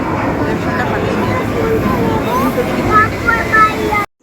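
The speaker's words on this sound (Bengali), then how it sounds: "উঠে পড়েছি মেট্রোতে" Steady rumble of a Kolkata metro train running under the Ganges, a constant mechanical roar filling the car, with brief faint squeals near the end.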